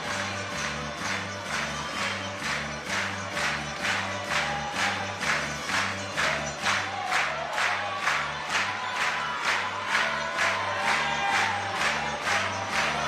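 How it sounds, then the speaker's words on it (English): A climbing competition crowd at a lead semi-final in Prague claps in steady rhythmic unison, loud, with constant cheering beneath the beat and no talk. "The crowd are getting hyped up again with the clapping."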